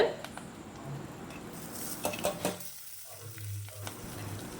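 Oil sizzles steadily in a pan as onions fry, with a few scraping stirs and soft clinks partway through.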